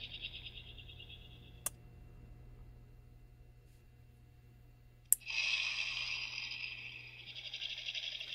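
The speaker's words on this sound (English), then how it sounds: "and you can hear the click." Relay module on a cheap Halloween prop controller giving two sharp, distinct clicks a few seconds apart, close and quiet, followed by a hissing buzz.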